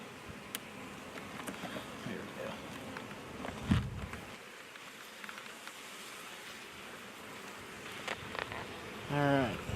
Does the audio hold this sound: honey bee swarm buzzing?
yes